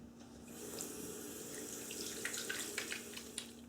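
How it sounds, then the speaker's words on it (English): Tap water running into a sink while greasy hands are washed with hand soap, faint steady splashing with small intermittent spatters. "Now with the hand soap, I'm going to have to use some water as I wash my hands."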